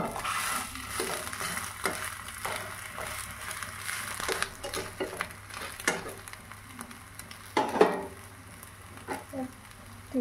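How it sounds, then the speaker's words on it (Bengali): Vegetables cooking in a covered pan give a soft, steady sizzle with occasional stirring clinks and knocks, faint and close, while a voice talks quietly over it. "একটু ঢেকে দিই, তাহলে সবজিগুলো সেদ্ধ হয়ে যাবে ভালো।"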